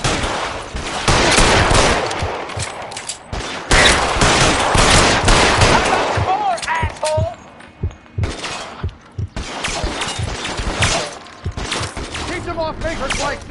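Gunfire in the LA Noire video game, loud bursts of rapid shots and bangs in clusters, with shouting voices and scattered impacts between volleys, dense and chaotic throughout.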